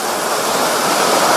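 Fast, strong river current rushing through rapids in the Ciremai area of Indonesia, a steady, loud broadband roar of water that fills the whole clip without a break, close by and with no voices.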